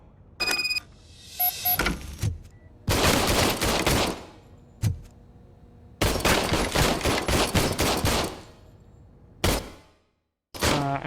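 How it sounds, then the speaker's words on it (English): Old service pistol fired in RoboCop: Rogue City, heard in loud, close bursts of rapid shots separated by short pauses, with a few single cracks between the volleys. "I was issued this old gun and serviced it according to the manual. I will try it out."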